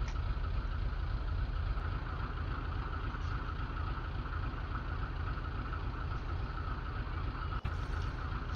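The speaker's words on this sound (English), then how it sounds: "Gotta wait for it to start up." A video game truck engine starting up in Farming Simulator 15 idles with a steady low rumble and hum, constant throughout, ending with a brief click.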